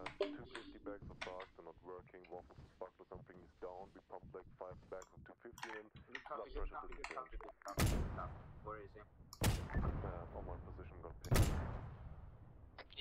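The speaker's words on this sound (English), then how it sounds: "It's a random explosion on the hill to our right." In the wanzer video game 6CB, explosions on a hill strike as three loud, sharp bursts that fade off into rumbling tails, following a stretch of continuous talk from players.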